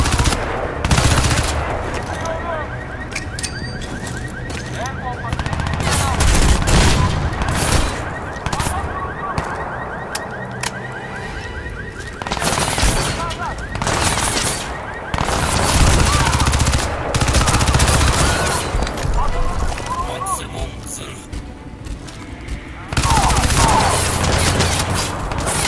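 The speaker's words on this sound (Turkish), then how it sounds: "Nereden sıkıyorlar la?" Automatic rifle fire in the shooter game Crysis 2 Remastered, crackling in repeated bursts and volleys across the whole stretch with a few heavier booms and brief lulls, a voice occasionally audible underneath.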